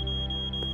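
A smoke alarm sounds in an animated Transformers: Rescue Bots episode: a single piercing, steady high-pitched electronic tone held throughout, loud and clear, with no talking.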